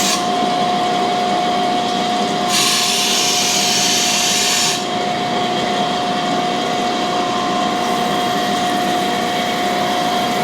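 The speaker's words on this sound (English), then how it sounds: "So we're gonna rough dress our stone here." A cam grinder stone is rough dressed, giving a loud, continuous grinding hiss with a steady high tone and a harsher burst partway through, close and unbroken, with no talk over it.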